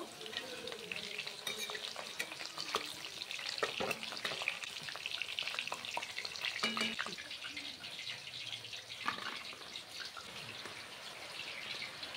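Chicken pieces fry in a pan with a soft, continuous sizzle and occasional spatters and scrapes, fairly quiet and steady throughout, with no talking.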